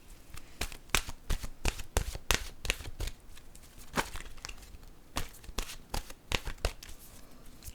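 A deck of oracle cards shuffled by hand, close and crisp, with rapid riffling flicks and slaps in an irregular rhythm, fairly quiet with no talk.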